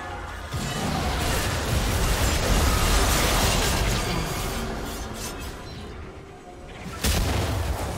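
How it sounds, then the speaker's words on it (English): A turret is destroyed in a League of Legends match, heard as a loud, sustained rumbling explosion with crumbling debris that fades, then a second heavy burst near the end. "Blue team's turret has been destroyed."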